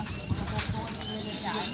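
Racing bulls' hooves at a kerapan sapi bull race on the field at Pademawu, Pamekasan, Madura, clatter in quick clip-clop beats, heard under someone talking.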